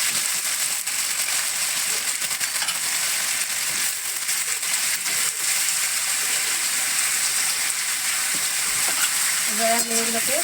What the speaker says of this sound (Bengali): এবার আমি দিয়ে দিচ্ছি পাঁচফোড়ন এইভাবে কিন্তু আমি সবগুলোকে এবারে একসাথে ভেজে নেবো